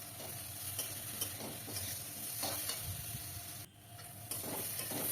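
Ginger-garlic paste sizzles in hot oil with three medium potatoes while a spoon stirs it, scraping and tapping the pan at a steady pace. The frying hiss is close and constant, and no one speaks.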